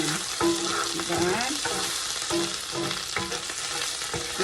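Garlic fries in a pan until brown while shrimp is being cooked, a dense, steady, close sizzle with intermittent stirring scrapes and clinks, and no speech.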